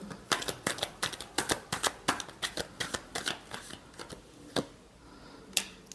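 Tarot cards being shuffled in quick, crisp riffling bursts, a steady run of sharp flutters that thins out into a few isolated snaps near the end, close and fairly quiet, with no talking.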